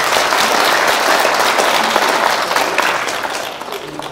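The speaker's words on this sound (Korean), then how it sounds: "우리 이분들 위해서 박수 한번 부탁드리겠습니다." A crowd at a patriotic rally in Daejeon applauds veterans of the Vietnam War, giving a dense, steady ovation that holds strong before easing slightly near the end.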